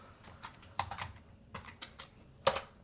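Soft typing on a computer keyboard, a quick irregular run of key clicks, close but quiet, with a sharper keystroke near the end.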